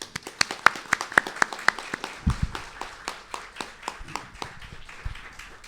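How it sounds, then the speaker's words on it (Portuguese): Applause at an academic round-table event, scattered hand claps from a modest audience, sharp and fairly close at first, then thinning out with a few low thumps. "uma efusiva e calorosa salva de palmas"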